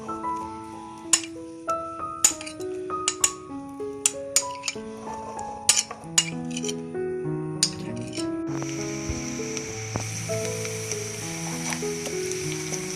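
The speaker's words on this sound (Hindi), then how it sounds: "अब ये प्याज फ्राई होना शुरू हो गया" Small, finely chopped onions frying in a pan over a lit flame give a steady sizzle, with scattered clinks of utensils and musical tones playing over it; the hiss grows fuller in the later part.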